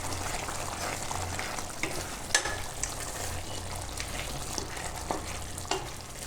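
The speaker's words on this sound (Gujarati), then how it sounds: "આમાં આપણે રાજમાં બધાય એ રીતે નાખી દેવાના ને હલાવી નાખીશું" Rajma beans are stirred into a simmering dahi gravy in a pan, making a continuous close sizzle and bubbling with occasional light spoon clicks.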